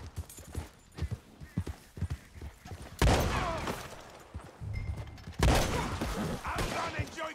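Horse hooves clop steadily in Red Dead Redemption 2, a close rhythmic trot under game gunfire and two loud bursts of shooting.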